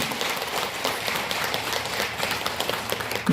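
Audience applause during a full-moon Buddhist dharma service at a temple, a continuous even patter of many hands clapping for a few seconds, moderately loud and without speech.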